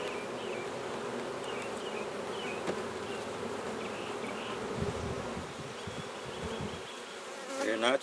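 Gentle bees swarm and buzz around an open hive during a frame inspection, forming a steady close droning hum, with faint handling bumps and a brief louder rustle at the close.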